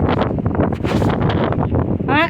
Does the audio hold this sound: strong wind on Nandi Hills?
yes